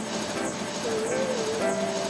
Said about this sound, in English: A Eurocopter with low noise and low vibration.